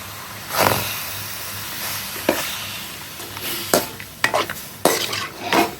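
Pork curry, village style, is stirred in a pan just taken off the heat, with a soft sizzle beneath loud, repeated scraping strokes of a spoon against the metal and no talking.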